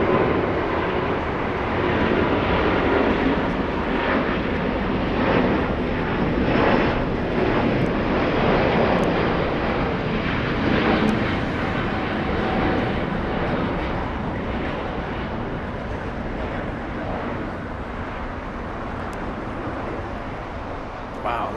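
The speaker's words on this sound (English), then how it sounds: "A very stunning departure, very classy departure by this gorgeous A350. Air France heading back to Paris." Air France Airbus A350 departing LAX, a sustained broad jet engine roar that holds steady and slowly fades over about twenty seconds, heard from a distance outdoors.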